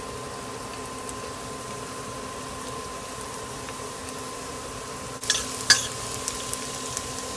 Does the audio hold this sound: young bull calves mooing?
no